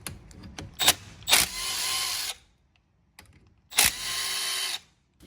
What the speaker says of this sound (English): we're going to remove the lower and upper brake caliper bolts